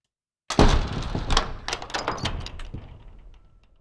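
Screen door Foley effect from the Krotos Studio Genesis pack, pitched down: one loud, low, rattling slam that jolts into a clattering, rumbling tail and fades out over about three seconds.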